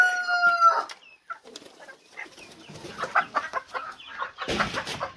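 Adler chickens in a coop, with a rooster crowing loudly near the start, then a scatter of clucks and soft calls from several hens and a burst of flapping or scuffling toward the end.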